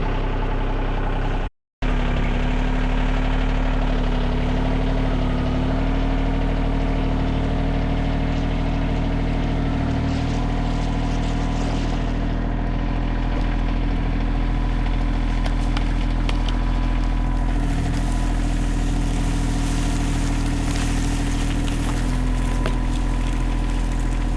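A tractor engine runs steadily at close range while being used with a chain to haul logs into a woodyard, a low continuous drone with one momentary dropout near the start.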